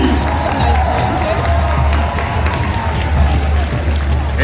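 Crowd applause and cheering at an Indian Relay horse race championship, a steady dense roar of clapping and voices under an announcer's talk, loud and continuous throughout.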